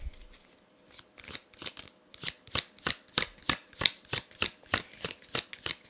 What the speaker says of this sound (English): Let me get a few cards on the bottom of the decks for my collective